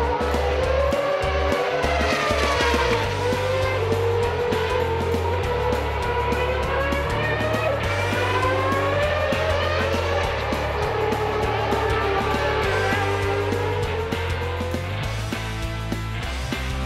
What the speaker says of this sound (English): we start to get the cars out on track